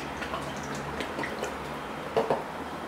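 Water poured from a container, heard as a steady close splashing hiss with a couple of brief louder gurgles near the end.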